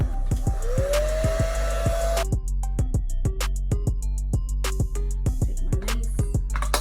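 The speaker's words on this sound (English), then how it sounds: "Dry it just a little bit." A hair dryer runs steadily on a lace wig during an install, a continuous close blowing whir with repeated clicks and tonal beeps layered over it and no talking.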